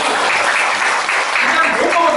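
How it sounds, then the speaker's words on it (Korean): An audience at a book-concert lecture gives a short burst of steady, fairly loud clapping that fills the room, with a voice talking over the applause. "박수 한번 쳐주세요."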